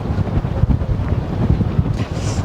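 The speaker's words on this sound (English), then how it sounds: "It's so cold and windy out here" Strong, cold wind buffets the microphone in a steady low roar, with no talking, up at the Statue of Liberty pedestal in New York.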